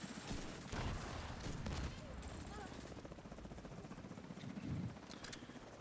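Helicopter rotor thrum in The Division 2 video game amid bursts of gunfire, with sharp volleys early and again later over a steady rumble, while a player talks over the action.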